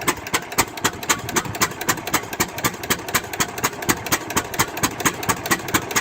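An International 816 tractor engine running at a vintage agricultural fair, with a steady rapid chugging beat of sharp exhaust pulses close to the microphone and no talking.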